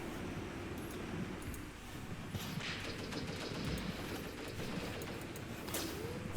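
Battle gunfire in the WWII tactics game Graviteam Tactics Mius Front, Soviet forces attacking German troops: dense, distant rifle and machine-gun fire crackling continuously over a rumbling background.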